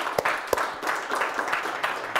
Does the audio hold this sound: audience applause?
yes